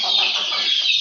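A hen clucks in a steady, close run of calls after laying an egg, the sound dense and continuous with no talking.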